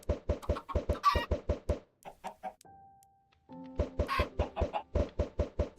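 Minecraft chickens in a chicken cooker farm cluck in quick rhythmic runs of short bursts, pause briefly with a thin tone, then resume their steady clucking.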